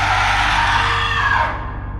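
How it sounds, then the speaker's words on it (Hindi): A loud, sustained scream echoing through the halls of a haunted mansion, starting strong and trailing off over about two seconds, heard alone against a low rumbling background. "एक जोर की चीख हवेली के अंदर गूंजी"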